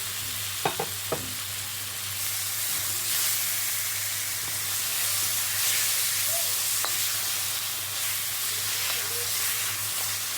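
Onions frying in a pan make a steady, fairly loud sizzle and hiss that runs throughout, with a couple of brief utensil clicks near the start.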